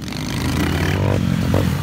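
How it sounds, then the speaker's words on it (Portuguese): A swarm of motorcycles passes nearby, their engines blending into a loud, continuous, buzzing drone with a few brief rises in pitch as the bikes go by. "um enxame de moto"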